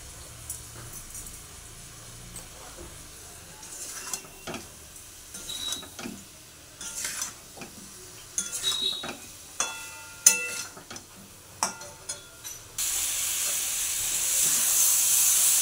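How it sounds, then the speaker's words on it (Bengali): Spice masala with tomato sauce and sugar stirred in a pan over a medium gas flame so it won't catch and burn, irregular scraping and clinking over a soft sizzle, then a louder steady hiss at the end. "মশলাটা তলা থেকে আবার কিছুটা পরিমাণ নেড়ে দিলাম যাতে তলায় লেগে পুড়ে না যায়।"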